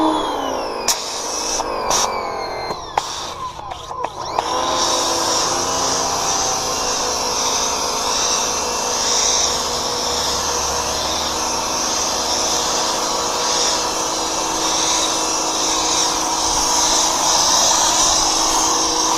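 A pressure washer with a nozzle gun sprays soapy water onto a Ford Bronco, starting with a few sharp bursts and clatter before settling into a loud, steady hiss and motor drone that runs unbroken for the rest of the clip.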